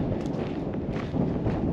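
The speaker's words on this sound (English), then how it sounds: "it's a little windy today" Gusty wind buffets the microphone outdoors on a walking trail at Golden Spike National Historical Park, a loud continuous rumbling roar with slight surges, no voices.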